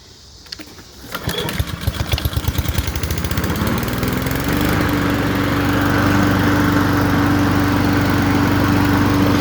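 Honda GCV160 lawn mower engine cranking with a few sputtering pops, then catching and settling into a steady, loud running drone close by.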